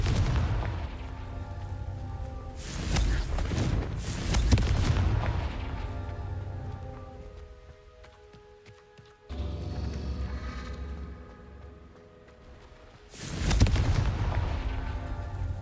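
Confringo blasting spell explosions in the Hogwarts Legacy video game, several loud booming blasts with rumbling tails, separated by quieter stretches of ambient game sound.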